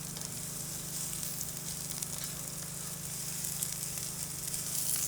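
Peppers and onions sizzle in hot extra virgin olive oil in a grill pan in an RV kitchen, a steady, even frying hiss with no voices.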